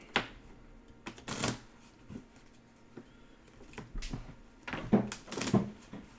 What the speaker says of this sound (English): All right, and we'll shuffle it up.